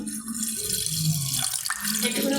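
Milk pours into a pot for making tea, a continuous close splashing, liquid trickle with a bright, watery hiss throughout.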